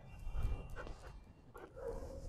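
A dog being trained to heel on a walk lets out a couple of brief, soft yips and whimpers close by, over low rustling and footstep noise.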